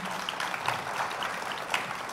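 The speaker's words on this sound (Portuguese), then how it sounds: "Vamos recebê-lo aqui, senhoras e senhores, com os aplausos da plateia" An audience at a technical lecture on contaminant screening applauds to welcome a speaker to the stage, a steady, moderately loud wash of many hands clapping that holds evenly throughout, with no talking.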